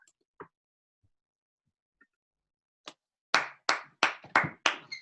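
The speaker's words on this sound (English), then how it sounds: "Everybody else should be clapping too." One person claps about five times, sharp and close to the microphone, during an online video call, preceded by a few faint scattered taps.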